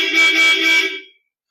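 A single sustained car horn blast, loud and steady for about a second, then cutting off into silence.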